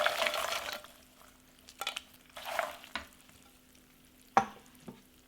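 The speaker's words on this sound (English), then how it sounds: "Put the paras in syrup after you have turned off the heat, and just keep mixing so all the paras are coated really well" Fried paras are stirred into hot jaggery syrup with the heat turned off, making close sticky scraping and stirring strokes in a pan in separate bursts, with a faint sizzle and no talk.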